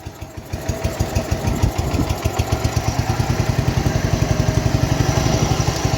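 A 1969 John Deere 112 lawn tractor's small engine runs in gear with a rapid, steady thumping beat, loud and close, picking up pace slightly as it labours against a slipping drive belt.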